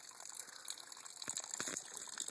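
An outdoor faucet gushes water on a cloudy day, a faint, continuous hissing splash with some brief louder spurts toward the end.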